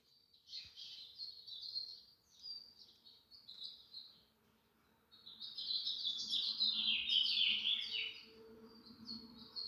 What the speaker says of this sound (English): The sound of these birds